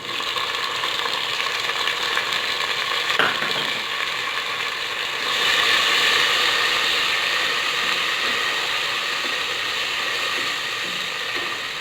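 Chopped tomatoes frying with golden-brown onions for lobia dal, a steady close sizzle and hiss that holds through the pan with no talk over it.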